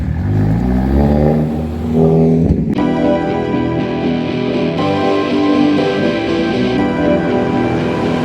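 Hyundai Elantra N with a manual gearbox, driven by someone learning stick shift: the engine revs up with a rising, buzzy drone, then a sharp transition into a steady, loud, harmonic-rich exhaust note that holds for several seconds, close and prominent.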